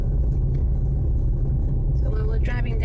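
A car drives along a coastal road, heard from inside as a steady low engine and road rumble throughout, with some brief higher noise near the end and no clear talking.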